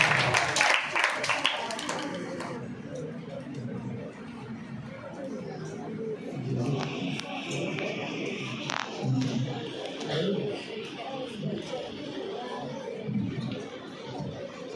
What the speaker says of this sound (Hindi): बिल्कुल सही उत्तर, तालियां बजाइए।